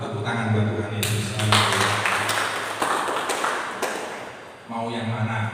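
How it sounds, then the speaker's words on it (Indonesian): Church congregation breaking into a burst of applause, dense clapping rising loud for about three seconds then tapering off as a voice resumes talking. "Tepuk tangan buat Tuhan Yesus."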